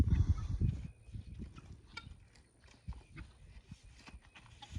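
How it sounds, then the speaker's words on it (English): A horse walks on a farm, its hooves clopping in an uneven rhythm at close range, loudest at the start and then settling into softer steps. "Here comes Horse, Nene."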